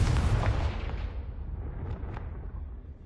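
Confringo fire spell explosion in Hogwarts Legacy, a heavy booming blast that rolls off into a fading rumble over about three seconds, with a couple of faint crackles in the tail.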